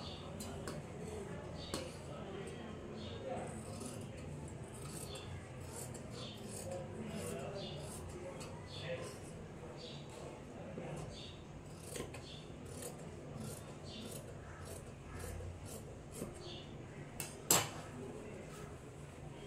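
Scissors snipping through fabric while cutting out an umbrella skirt, giving soft repeated crisp snips and rubbing over a low background hum, fairly quiet and steady throughout.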